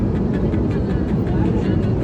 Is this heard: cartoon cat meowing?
no